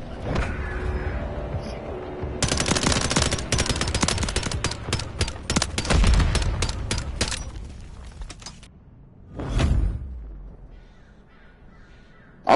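Call of Duty gunfight gunfire: dense, rapid bursts of automatic fire fill the middle of the clip, followed by a lone loud shot and quieter stretches, with a voice briefly heard.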